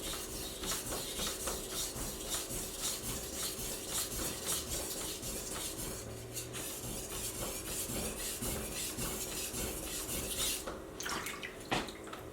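Knife edge being sharpened on a stone, with continuous close gritty rubbing and scraping strokes, steady and fairly faint, with a few louder scrapes near the end.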